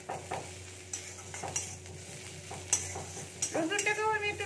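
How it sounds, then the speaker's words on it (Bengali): Crushed garlic dropped onto half-fried onion in a hot pan, sizzling softly while a spoon scrapes and stirs with scattered clicks of metal, the frying swelling louder near the end. "রসুনটাকেও আমি একটু ভেজে নিচ্ছি।"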